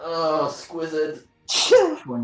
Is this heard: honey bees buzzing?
no